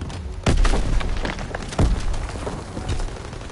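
Gunfire and explosions in a World War II video game battle near a bridge and tank, several heavy booms and thuds landing in quick succession over a continuous rattle of combat.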